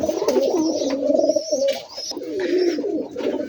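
Rajshahi Giribaz pigeons coo close by in soft, rolling, repeated throaty calls that overlap, with a few faint higher chirps between them.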